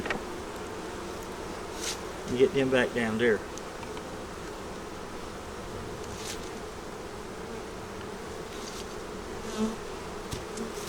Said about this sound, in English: now you got to get these bees out of here